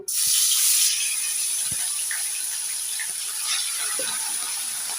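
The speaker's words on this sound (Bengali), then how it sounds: "তেল গরম হয়ে গেছে এবার প্রথমে মাছগুলোকে ভেজে নেব" Fish frying in hot white oil in a kadai, a steady loud hiss and sizzle that carries evenly from start to finish with no one speaking.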